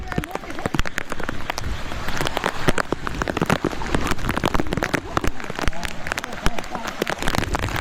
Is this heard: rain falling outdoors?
yes